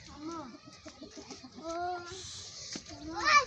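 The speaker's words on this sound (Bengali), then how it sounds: "মুরগি সব ঢুকাও" Hens on a village poultry farm cluck and squawk nearby in short, busy bursts as they are herded in, with a voice briefly heard among them.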